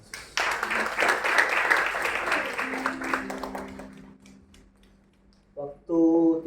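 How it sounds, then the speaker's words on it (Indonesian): A church congregation claps in a burst of applause that gradually fades, followed by a short spoken voice. "Tepuk tangan buat Tuhan Yesus."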